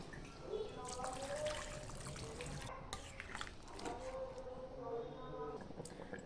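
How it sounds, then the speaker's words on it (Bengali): Hot water is poured into chicken curry as it cooks in a home kitchen, giving a steady splashing, trickling pour under someone speaking. "গরম জল দিয়ে দেবো।"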